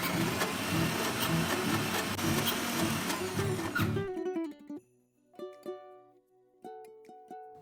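A mixer grinder whirs loudly for about four seconds while grinding roasted peanuts into peanut butter with no added oil, then cuts off, leaving faint clinks and taps.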